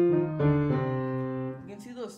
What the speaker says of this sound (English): And then you can play minor scales by adding block notes depending on what scale you're playing.